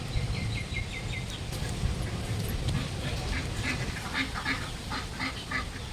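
Ducks quack repeatedly in short, rapid bursts over steady outdoor background noise, somewhat distant.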